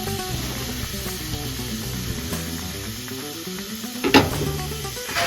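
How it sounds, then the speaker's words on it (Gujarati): Garlic and asafoetida tempering sizzling in hot oil for a Gujarati kadhi, a steady soft crackle and hiss throughout with a brief louder spatter near the end, no talk. "આજે વઘારવા માટે લસણનો વઘાર કરી નાખ્યો છે"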